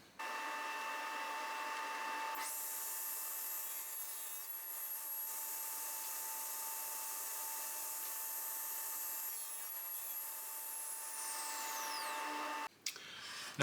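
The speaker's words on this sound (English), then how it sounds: "This cut, take this with your circular saw, jigsaw, bandsaw," A power saw runs continuously through wood, a loud steady whine and buzz for most of the span that winds down near the end, with no voices.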